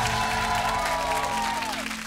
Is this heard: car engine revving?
no